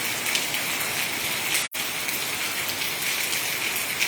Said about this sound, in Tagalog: Karon buntag ni ulan.